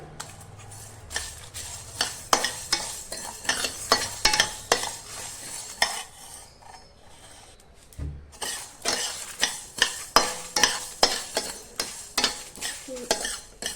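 Whole coriander seeds and dried red chillies frying in a pan for masala chicken, with a hissing sizzle and rapid rhythmic metal scrapes of stirring, close and loud, briefly pausing near the middle before resuming.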